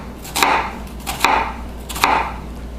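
Three crisp knife chops through an onion on a cutting board, evenly spaced about a second apart, moderately loud and close, with no talking.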